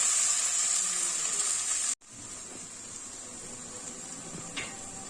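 Mashed flat beans sautéing in a pan over medium heat, a constant close sizzle and hiss that cuts out briefly near the two-second mark, then carries on more softly, with no talking.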